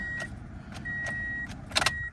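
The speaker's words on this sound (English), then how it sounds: "it's not turning over at all" At an insurance auto auction a car's starter clicks and whirrs in short separate bursts without the engine catching, faint with quiet gaps between tries.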